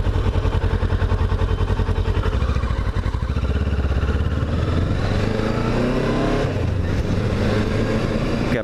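A Kawasaki 650 Ninja motorcycle rides on roads in Baytown, Texas, its engine droning loud and steady throughout with shifting pitch as it accelerates.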